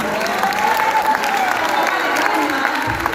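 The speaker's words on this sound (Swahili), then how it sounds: "Nataka tupigie kijana makofi." An audience claps for a young man standing in for his grandmother at a gathering, a dense sustained round of applause with light cheering and a voice over it.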